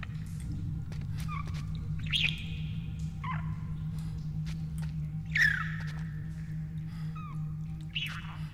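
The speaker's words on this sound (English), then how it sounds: "Keep the bird quiet to survive." Bird chirps from a canary-like bird in the horror survival game Wounded, set around a gas leak: several short scattered tweets and whistles over a steady low ambient hum.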